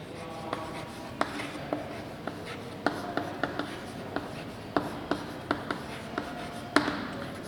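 Chalk or marker strokes on a classroom board during a linear algebra lecture, a sparse series of sharp taps and short scratchy strokes at an irregular writing pace, close and clear with no talking over them.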